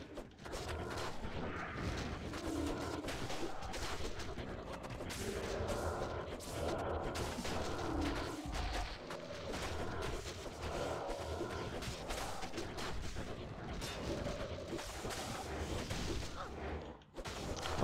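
Loot explosion in the video game Diablo 2, a dense run of booming, crackling impacts and bursts layered over one another at a steady moderate level, ending in a sharp final hit.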